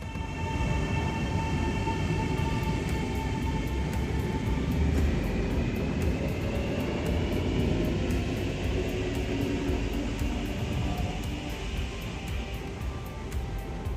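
Arlanda Express train running between central Stockholm and Arlanda airport, a loud, steady rumble and rush of rolling wheels and airflow that persists unbroken throughout, with faint higher whines riding above it.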